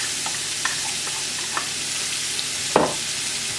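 Finely chopped onions sizzling in melted butter in a pan, a steady close frying hiss with a few light stirring scrapes and one sharper clatter.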